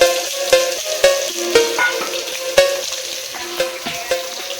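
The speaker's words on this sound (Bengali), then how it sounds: "এখন আমরা শাকটার জন্য প্রসেস করছি। পেঁয়াজ কুচিটা দিয়ে দেব।" Chopped onion frying in a pan as the base for cooked greens, a loud close sizzle broken by regular stirring scrapes and knocks roughly every half second.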